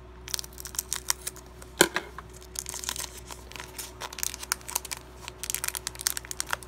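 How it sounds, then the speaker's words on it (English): Scissors snip across the top of a Pokemon card blister pack, giving one sharp cut amid a run of crisp plastic crinkles and clicks, close and fairly quiet. "I will take my scissors and snip the top."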